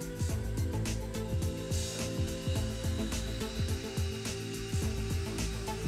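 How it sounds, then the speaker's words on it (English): A dental rubber cap polishing tool buffs teeth during cleaning with toothpaste, giving a steady high-pitched whine with repeated short pulses as the cap is pressed against each tooth, close and continuous. "The teeth are cleaned with toothpaste and polished with a rubber cap polishing tool to ensure their"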